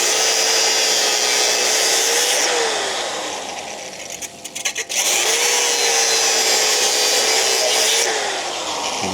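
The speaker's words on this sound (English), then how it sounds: "save this tab for the last one to cut off, so it falls away from the cutoff wheel" A cutoff wheel slices through a metal tab, a loud continuous abrasive screech with a whining tone that dips partway, then resumes at full strength after a short break.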